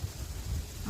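Rain in a village, a dense continuous hiss with a low rumbling undertone, steady and close throughout.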